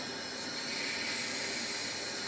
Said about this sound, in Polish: No syczy z misy korbowej, ze środka silnika